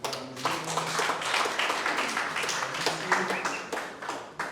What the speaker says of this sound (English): Please give a very big clap to